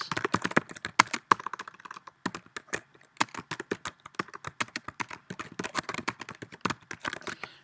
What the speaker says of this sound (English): my typing sounds like I'm banging on the keyboard